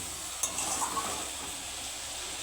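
A turmeric and chilli spice paste is stir-fried with a splash of water for fish curry, giving a soft, hissing sizzle with a light scrape of the spoon near the start, fairly quiet and continuous.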